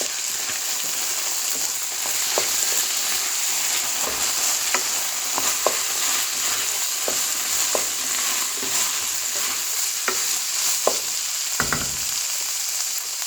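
Tomato sauce is stirred into a frying mixture in a pan for homemade loaded nachos: a steady sizzle under repeated spoon scrapes and clicks, close and continuous, with no talking.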